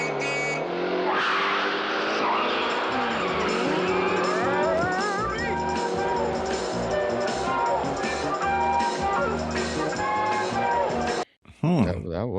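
Race cars from The Love Bug, including Herbie, roar along with engine drone and tire squeals while film music and dialogue run over them, then cut off abruptly near the end.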